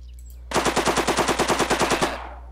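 A long machine gun burst in the video game Silent Storm fires about fifteen rapid, evenly spaced shots in one sustained string, loud and close, then cuts off and trails away.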